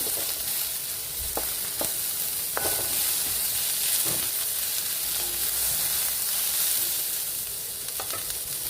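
Ingredients sautéing in a hot pan, a loud continuous sizzling hiss heard close up, broken by occasional clicks and scrapes of stirring throughout.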